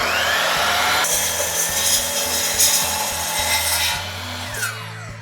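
A saw blade cuts through a 1.5 by 2 inch aluminum spacer block in a shop, giving a loud, continuous grinding rasp that holds steady for several seconds before easing off near the end.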